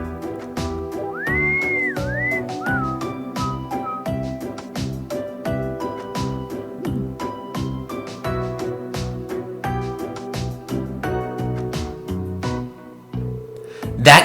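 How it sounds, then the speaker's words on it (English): A video game character whistles an innocent-sounding tune over a steady game music track, the bright whistled line rising and wavering near the start. "That innocent whistling isn't fooling anyone."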